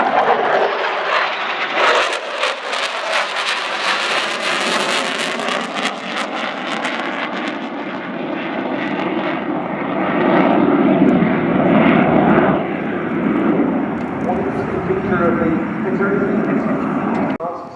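Pair of Polish Air Force Sukhoi Su-22 jets flying an air show display at RIAT 2014, a loud sustained engine roar that swells and shifts through the whole pass, with a commentator talking over it.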